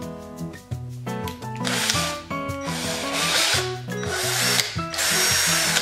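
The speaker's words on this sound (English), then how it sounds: "very easy to drill with the nail" A power drill whines loudly up close, its motor pitch rising and dropping in repeated bursts as it bites into hardwood using a wire nail as the bit.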